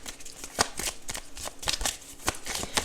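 A deck of oracle cards being shuffled by hand, a close, crisp run of riffling flicks and soft slaps in an uneven rhythm, alone without talk.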